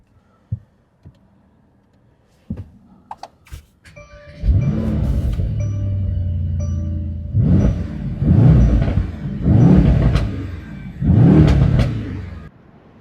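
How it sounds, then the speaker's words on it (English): A 2019 Mercedes-AMG E63S 4MATIC sedan starts up with a few clicks and thumps, then its engine settles into a steady rumble and swells through three loud acceleration pulls, each rising and easing off. "let's go on a drive. And this 2019 Mercedes-AMG E63S 4MATIC sedan."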